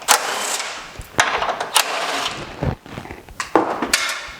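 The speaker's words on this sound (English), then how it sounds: "A 10mm socket, which I'm going to put on the end of my little rattle gun to get this done quicker" Short bursts from a small pneumatic rattle gun fitted with a 10mm socket, undoing headlight bolts on a car, come in several sharp separate rattling blasts with gaps between them, loud and close with no talking.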